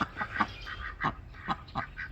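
Ducks call in a run of rhythmic, nasal quacks and honks, about eight close, fairly loud calls in a little over two seconds, with no one talking.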